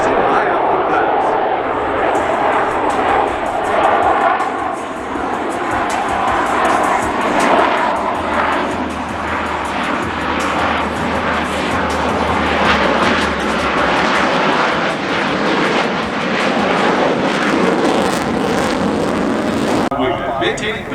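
Blue Angels F/A-18 Super Hornet jets making a high output pass at the 2022 Spirit of St. Louis Airshow, a loud sustained engine roar filling the whole clip while an announcer talks over it.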